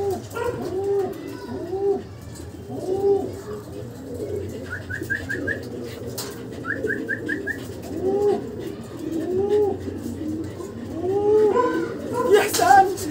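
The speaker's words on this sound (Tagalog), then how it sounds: "Video mo yung kalapati." Pigeons coo repeatedly in soft, rolling phrases close by, with a steady hum underneath and brief chirps, while people talk excitedly at the end of a pigeon race.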